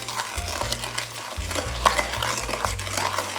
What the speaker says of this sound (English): we'll add our melted butter. Mix that all together until it's thoroughly combined.